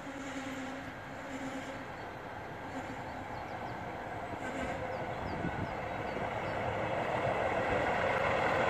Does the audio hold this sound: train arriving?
yes